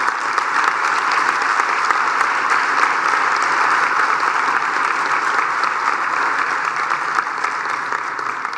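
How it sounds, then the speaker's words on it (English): Sustained, loud applause from an audience at an awards ceremony, dense and even throughout with no talk over it. "He does deserve a rousing applause."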